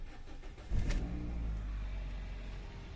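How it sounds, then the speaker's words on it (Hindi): A 2016/17 Toyota Corolla GLi engine cranks and catches at close range, settling into a steady, loud low idle that runs to the end. "गाड़ी का साउंड भी चेक करते हैं, स्टार्ट करते हैं गाड़ी।"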